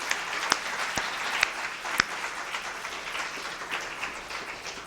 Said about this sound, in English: let's give an applause to all 5 briefers